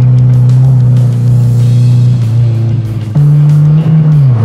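A Peugeot track-day car driven hard on a race track, its engine droning loud and close with rising and falling revs and a sharp jump in pitch at a gear change, without talk.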